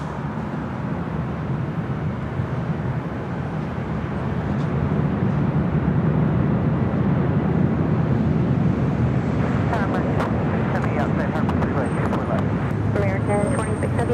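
A plane departs from runway 24 left at LAX, its broad engine roar swelling after a few seconds into a steady, loud rumble, with radio voices talking over it.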